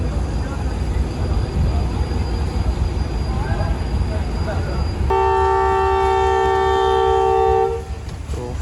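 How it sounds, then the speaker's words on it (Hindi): At Karachi Cantt railway station, an Eid special train gives a long, loud horn blast over busy platform rumble and crowd murmur, then the sound eases off near the end. "अब ट्रेन मूव होगी।"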